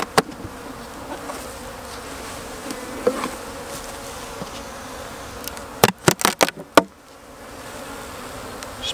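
A steady, close swarm of honey bees hums throughout as a hive is opened, joined near the end by a few sharp knocks and clatters.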